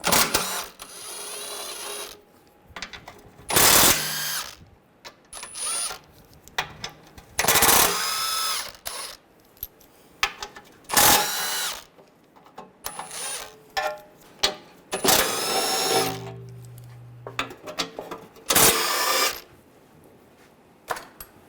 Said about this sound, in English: I'm using a 16mm socket. Take these bolts out.